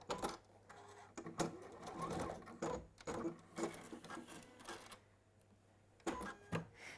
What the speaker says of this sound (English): I'm just going to tack those edges in place